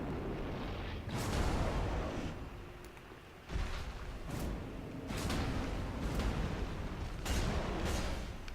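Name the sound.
boss explosion attack in video game Dark Souls 3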